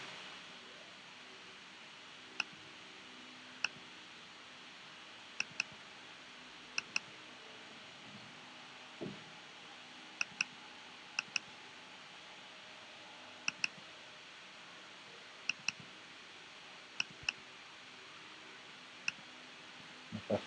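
Sparse keyboard typing on a computer during a coding session, isolated soft clicks in small clusters spaced across a quiet room-noise background.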